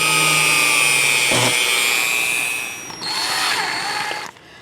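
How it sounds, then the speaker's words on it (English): A power drill bores a hole in a toilet roll holder to fit a tube for a Hasbro Hero Series X-Wing Fighter conversion. It gives a loud, sustained whine that shifts in pitch mid-way, then cuts off near the end. "drill a hole to accommodate the tube"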